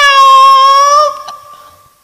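A human voice imitates a cat's meow, one drawn-out nasal mew that trails off into a fading tail, heard alone and close.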